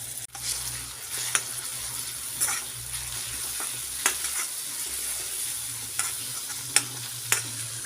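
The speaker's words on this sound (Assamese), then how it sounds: "দুই মিনিটমান এইদৰে ভাজি লোৱাৰ পিছত ইয়াত এতিয়া মই বিলাহী পেষ্টটো দি দিম" Ginger-garlic paste and masala paste sizzle steadily in a pan for a tomato fish gravy, with occasional scrapes and taps of a spoon stirring through the hiss, no voices.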